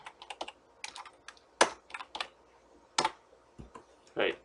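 Fingers tap out a short string of keystrokes on a computer keyboard, sharp close clicks in uneven quick bursts with brief pauses between them.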